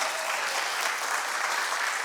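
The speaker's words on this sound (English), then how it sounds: "Round of applause." Audience applause at a township school board meeting, a broad continuous hiss of many people clapping at once, steady and fairly loud with no gaps across the whole stretch.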